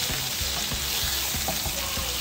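Sliced grape tomatoes hitting a hot pan for lobster pasta, a steady close sizzle with soft stirring clicks and pops, no voices.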